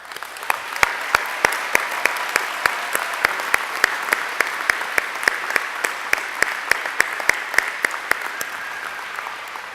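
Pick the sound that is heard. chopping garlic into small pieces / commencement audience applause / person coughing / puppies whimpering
commencement audience applause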